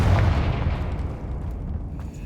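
A Confringo fire spell blast in Hogwarts Legacy bursts with a heavy, booming explosion that rolls off into a low rumbling decay, loud and close with no voices.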